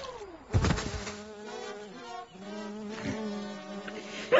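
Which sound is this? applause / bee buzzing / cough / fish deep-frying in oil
bee buzzing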